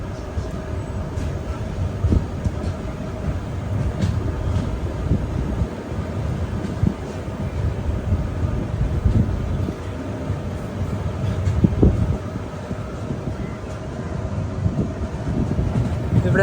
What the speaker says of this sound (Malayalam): കോട്ടയം റെയിൽവേ സ്റ്റേഷൻ ഇതാ നമ്മുടെ ട്രെയിൻ എടുത്തിരിക്കുകയാണ്.